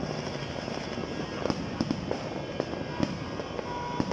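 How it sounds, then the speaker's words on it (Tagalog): Irregular pops and crackling bursts of New Year 2024 fireworks go off over a constant rumbling background, some sharper and nearer, others softer and distant. "Grabe, ang daming fireworks, oh."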